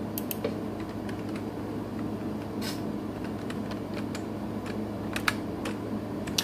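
Computer keyboard and mouse clatter during Minecraft play, with irregular clicks and key taps scattered over a steady low background hum, fairly close and moderately quiet.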